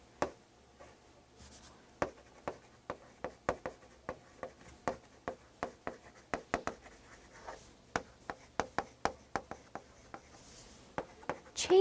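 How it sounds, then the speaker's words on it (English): Handwriting on paper during a test-prep lesson, close, quiet scratchy pen strokes and taps in irregular bursts across the clip, with no talking over them. "okay, let's write"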